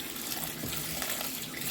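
Fresh collard greens rinsed under running sink water, a steady close splashing and trickling stream with the leaves shifting in the flow, no one talking.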